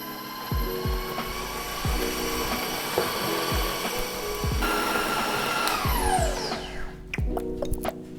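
Stand mixer beating lemon meringue cake batter at medium-high speed, a steady motor whir with regular rhythmic knocks from the beaters, close and continuous.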